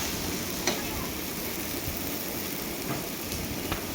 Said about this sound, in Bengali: সবজি ভাজা হয়ে গেছে আমি চাল ডাল ছেড়ে দিচ্ছি